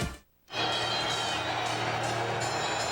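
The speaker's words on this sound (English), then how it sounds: "this crowd's going crazy" A football stadium crowd roars and cheers during a 2002 NFL game, Philadelphia Eagles at the New York Giants, a dense, loud, sustained wall of noise that swells in after a brief dip at the start.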